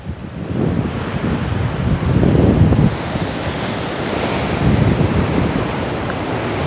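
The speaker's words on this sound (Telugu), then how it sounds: "పెద్ద పెద్ద అలలు వస్తున్నాయి ఇండియన్ ఓషన్ నుండి" Large Indian Ocean waves crash against volcanic rock on the Mauritius coast in a loud, continuous roar that rises and falls in surges, with heavy wind buffeting the microphone.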